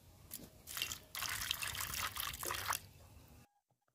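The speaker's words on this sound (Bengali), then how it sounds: "এগুলোতে একটু জল দিয়ে দেব।" Water splashes and pours onto a bowl of dates for chutney, a close, rushing stream in a couple of bursts lasting a few seconds before stopping abruptly into silence.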